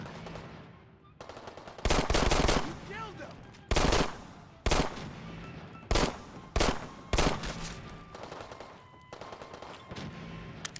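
Automatic gunfire in Fallout 4 rips out in several loud, separate bursts of rapid shots, with quieter combat noise in the gaps between them.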